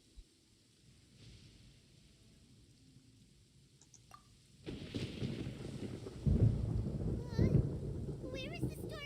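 A Genshin Impact thunderstorm in game begins with quiet background, then a deep rolling rumble of thunder and rain swells and stays loud, with heavier crashes toward the end.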